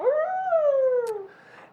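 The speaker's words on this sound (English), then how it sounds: "Bark on live television." A dog lets out a single drawn-out howl in a live podcast studio, rising then slowly sliding down in pitch, close and clear, trailing off into a faint whimper at the end.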